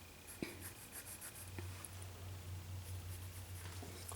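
A pencil drawing lines on paper makes a faint, soft scratching close by, with a couple of light taps over a low steady hum.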